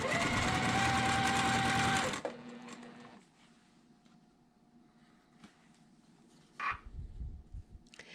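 A sewing machine stitches quilt block pieces in a loud, fast, continuous run for about two seconds, then stops, followed by quiet handling sounds and a brief rustle.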